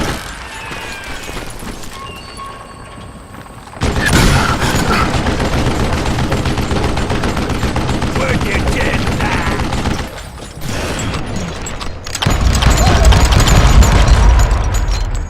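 Gunfire in the video game Call of Juarez Gunslinger, loud and dense volleys of shots with booming impacts in several sustained stretches. Brief quieter gaps fall between them, and a voice talks at points.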